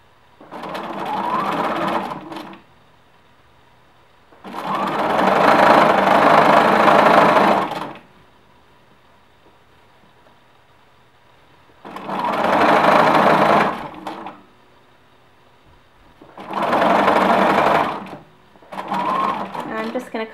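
A sewing machine stitches a knit T-shirt neckband over the shoulder seam in four or five loud, close whirring runs of a few seconds each, broken by near-silent pauses.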